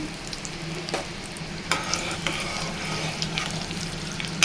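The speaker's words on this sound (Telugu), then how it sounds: "ఇప్పుడు ఎండుమిర్చి అండి ఐదారు ఎండుమిర్చి వేస్తున్నాను" Five or six dried red chillies frying in hot oil in a pan, a steady close sizzle with occasional stirring scrapes and clinks, no talking.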